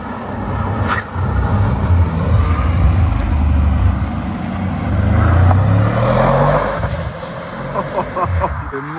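An Audi RS6-R tuned by ABT drives past with a deep, loud engine rumble and rushing exhaust whoosh that rises and falls over several seconds, and faint voices sit underneath.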